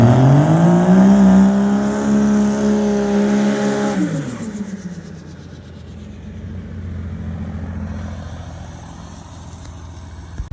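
A Nova drag car with a 5.3 engine revs loudly and climbs in pitch for about four seconds as it launches. The roar then drops and fades into a lower, distant drone and background rumble.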